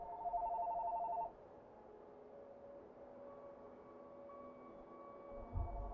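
A telephone rings with a rapid electronic trill for a little over a second, then cuts off, leaving a quiet background of low hum and faint steady tones.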